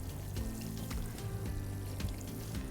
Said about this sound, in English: It's called a rose, and it diffuses the water so that the stream coming out isn't so hard